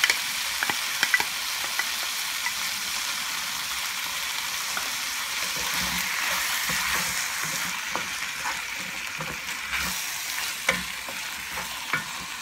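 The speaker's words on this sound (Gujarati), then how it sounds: "પછી આપણે એની અંદર નાખશું આપણું ચીલી સોસ." Chili sauce goes into a sizzling Shanghai chicken stir-fry in a hot pan, giving a steady close frying hiss with scattered clicks of stirring utensils and no talk.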